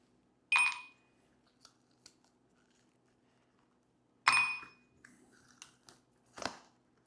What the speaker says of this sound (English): I'm going to be putting a couple ice cubes in there.